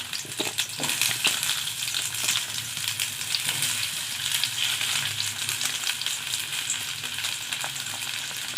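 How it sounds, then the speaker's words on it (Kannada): Sliced onions fry in about a spoonful of oil in a pan, giving a dense, even hiss with occasional stirring scrapes, close and continuous for the whole stretch, and no one speaking. "ಸ್ವಲ್ಪ ಎಣ್ಣೆ ಹಾಕ್ತಾಯಿದ್ದೀನಿ, 1 ಸ್ಪೂನ್ ಅಷ್ಟು. 1-2 ಈರುಳ್ಳಿ ಈ ಥರ ಹಚ್ಕೊಂಡು ಹಾಕ್ತಾಯಿದ್ದೀನಿ ನಾನು."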